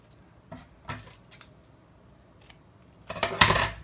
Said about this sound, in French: Et maintenant, je vais en découper un autre de la même longueur.